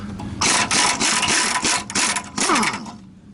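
An impact wrench removing a tie rod nut on a Twin I-Beam Ford F-series truck hammers in several loud, buzzing bursts, rattling hard before it cuts off abruptly.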